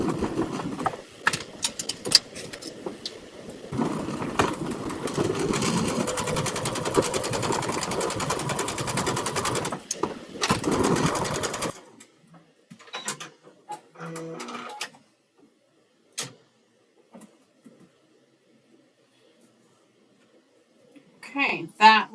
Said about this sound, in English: and sew the two pieces together